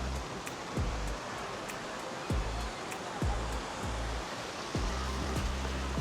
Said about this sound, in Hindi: वो ऊपर से आबशार बह रही है।